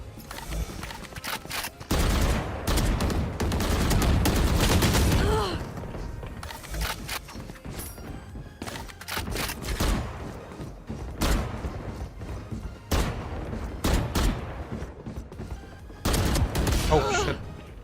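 Valorant gunfire during a VCT Americas esports match watch party: loud, dense bursts of rapid shots and single cracks repeat across the whole stretch, close and punchy, with voices talking over them.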